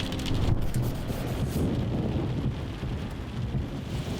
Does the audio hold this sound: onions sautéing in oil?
no